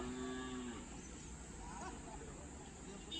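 A native Hallikar cow moos at a village fair, one clear low call in the first second, with the steady hubbub of the fairground crowd continuing around it.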